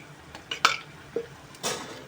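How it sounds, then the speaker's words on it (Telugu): A spoon stirs ginger garlic paste and turmeric frying in oil in a pan for aloo dum biryani, making a few soft metallic clinks and scrapes against the pan over a quiet kitchen background. "వేసుకొని మంచిగా ఈ ఆయిల్లో ఫ్రై అయ్యేంత వరకు కలుపుకోవాలి."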